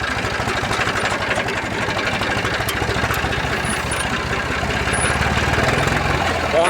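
A tractor engine runs in second gear while pulling a sprayer in a field, giving a loud, continuous low rumbling drone that holds steady and close throughout.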